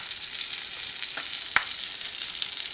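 Steady close sizzling of grease frying in a pan, a continuous crackling hiss with a few sharper pops.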